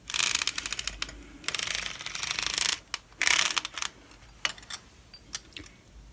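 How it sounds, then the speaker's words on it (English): A hand-cranked circular sock knitting machine works through one row of a toe with rapid clattering, ratcheting clicks in uneven bursts, loud at first, then thinning into scattered clicks and taps. "So I am now going to knit the last row."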